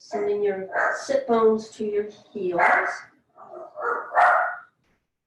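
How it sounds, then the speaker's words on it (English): A dog barks indoors during a home yoga class, its yelps mixed in with the instructor's steady spoken cues, which run over most of the clip. "Sorry about my dog."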